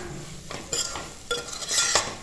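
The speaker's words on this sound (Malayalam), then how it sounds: "അതേപോലെ തന്നെ ഒരു 1/2 ടീസ്പൂൺ കായപ്പൊടി നന്നായിട്ടൊന്ന് മിക്സ് ചെയ്ത് കൊടുക്കാം" A spoon stirs asafoetida powder into Kerala beef pickle masala in a pan, making soft scraping strokes and a few light metallic clinks over a faint background sizzle, close and fairly quiet.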